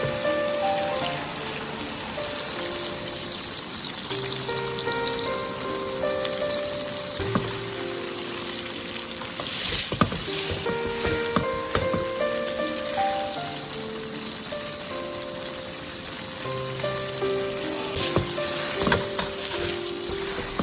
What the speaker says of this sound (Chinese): 煎制的过程中，我们要不停的晃动锅，这样豆腐就不会粘锅，也不会烧焦